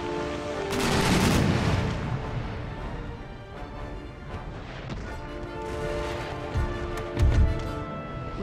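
Massed musket volleys crackle and boom across an Empire: Total War battlefield as rows of troops fire at extreme range, dense overlapping gunfire rolling on throughout with heavier bursts near the start and end.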